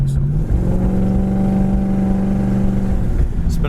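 Engine of a 1969 Plymouth Roadrunner with a four-barrel carburetor running steadily from inside the car at moderate speed, a loud continuous drone with no voices.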